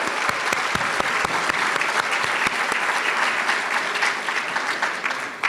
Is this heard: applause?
yes